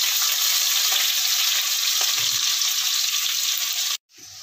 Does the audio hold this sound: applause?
no